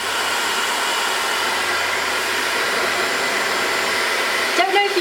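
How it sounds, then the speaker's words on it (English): A Dyson hairdryer running close by, a loud, steady airy whoosh throughout, with a brief pitch shift near the end. "You guys can hear me over the noise of the hairdryer."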